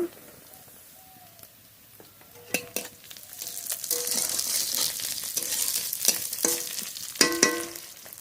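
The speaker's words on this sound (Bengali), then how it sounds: "পেঁয়াজটা একটু হালকা করে ভেজে নেব।" Onion fries lightly in oil, starting quiet and building into a steady sizzle from the middle onward, broken by sharp clanks and scrapes of a utensil against the pan.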